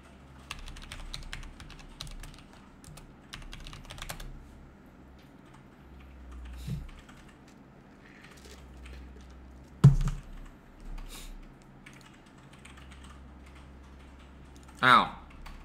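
Rapid typing on a computer keyboard, bursts of quick clicks at moderate distance, with scattered louder knocks and a quiet background, no speech over it.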